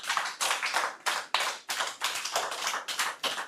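A church congregation applauds together in steady bursts, a dense, close crowd clapping with rhythmic swells and brief dips, no voices over it.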